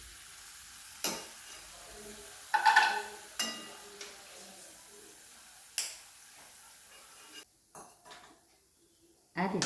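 Corn kernels frying in hot oil, a faint sizzle beneath repeated sharp clinks and scrapes of a spoon stirring against the pan, spaced irregularly.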